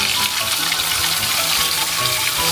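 Onion paste hitting hot oil in a pan for a katla fish curry, giving a loud, steady, close-up sizzle and hiss that fills the whole moment without pause.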